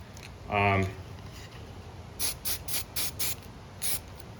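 An aerosol spray paint can sprays thick wood in a run of short, sharp hissing bursts, about six close together, following a brief voice at the start.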